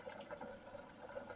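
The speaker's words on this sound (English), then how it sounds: "Let the sink drain a bit." Water drains from a salad spinner into a kitchen sink while sofrito greens are washed, giving a steady, close gurgling and trickling wash of liquid that holds through the moment without pause.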